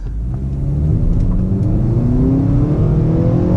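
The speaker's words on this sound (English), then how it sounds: "you do get quite a bit of wheel hop when you're trying to accelerate" A 2020 Acura ILX with a 2.4L engine accelerates hard with wheel spin, its engine note rising steadily in a loud, close, climbing rev over road rumble.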